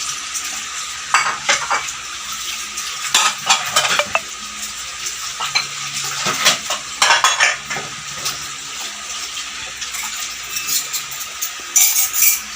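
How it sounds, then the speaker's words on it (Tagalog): Dishes and cutlery being washed at home, with repeated clinks and clatters of plates and silverware, scraping, and splashing water in a continuous close-up rhythm. "Maghuhugas tayo ng pinggan."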